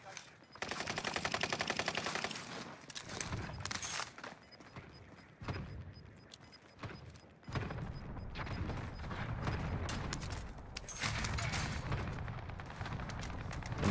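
Rapid automatic gunfire from Call of Duty Warzone on Rebirth Island, using a Kilo 141 setup, crackles in long loud bursts with brief gaps, plus distant shots and mechanical clatter.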